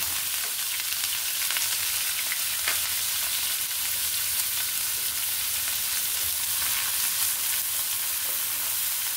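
Chopped garlic and onion frying in oil for beresta, a loud, dense, steady sizzle up close with occasional stirring scrapes, no voices.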